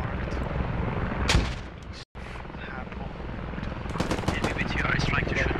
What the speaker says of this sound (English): Enemy helicopter marked.